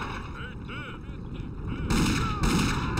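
Barrel bombs exploding among Soviet soldiers in the Indiana Jones and the Infernal Machine video game, heavy booming blasts that roll on continuously, with a second loud burst near the end.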